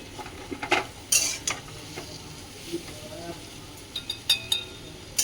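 Raw rice goes into a pan of frying spices and coconut and is stirred, giving a soft sizzle with scraping spoon strokes and light clinks against the pan, close and quiet.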